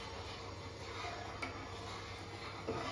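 Vermicelli is stirred into rice kheer in a pot, giving faint, soft scraping and light ticking clicks over a steady low bubbling hiss.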